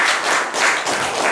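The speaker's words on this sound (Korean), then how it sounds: "다시 한번 축하드리면서 박수를 모시겠습니다." Audience applauding at a Korean literary award ceremony and book launch; a short, close burst of brisk, even hand clapping without voices.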